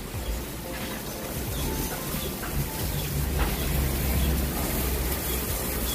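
Steady, loud wind roars across the whole stretch, a broad rushing noise with gusty swells and no voices.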